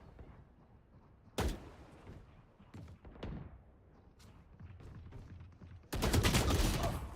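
Gunfire in a competitive shooter video game comes as scattered sharp shots and thuds that build into a loud, continuous burst of rapid fire at the end.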